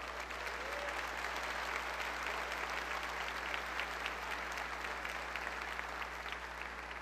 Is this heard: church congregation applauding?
yes